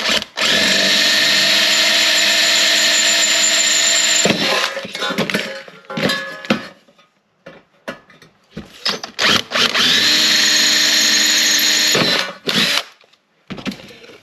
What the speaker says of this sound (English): let's go ahead and see if we can get all three of these rivets out